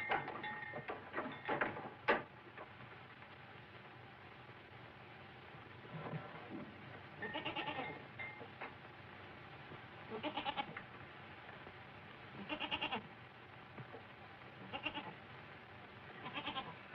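A goat bleats repeatedly in several separate bursts with quiet gaps between them. The scene is from the 1937 Spanish-dubbed Heidi film, during a goat-milking scene, with light background noise and no talking.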